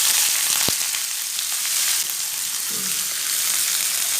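Chopped onions frying in a pan over medium heat for a village-style mango chutney, a steady close sizzle throughout with one sharp tap near the start.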